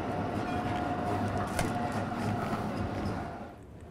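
A train at Winterthur railway station rumbles steadily with broadband rolling noise and a faint tonal whine, a brief sharper clank in the middle, then fades slightly toward the end; no speech.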